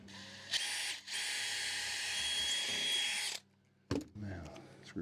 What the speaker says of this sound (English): Drill that at a better angle, a higher angle.